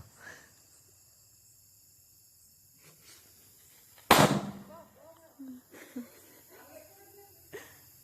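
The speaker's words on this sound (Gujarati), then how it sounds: "ફટાકો" A single sharp Diwali firecracker bang cracks out suddenly in a village, loud and close, between stretches of quiet and scattered voices talking.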